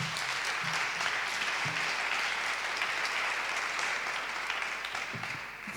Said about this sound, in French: Donc, Florence, vous pouvez l'applaudir